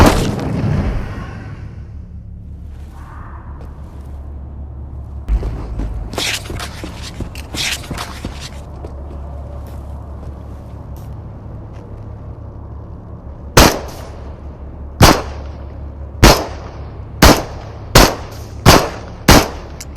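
Gunshots in the VR shooter Into the Radius on Quest 2: a burst of loud gunfire and clatter early on, then seven sharp, evenly spaced single shots ringing out near and loud toward the end, no talking.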